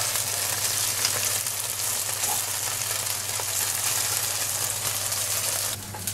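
Thin marinated beef slices fry in a pan with a steady, dense sizzle that stays loud and close throughout, with no talking.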